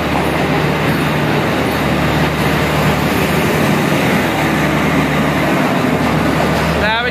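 A train at Gujrat railway station in Pakistan, heard as a steady, loud rumble of rolling railcars filling the whole stretch without pause.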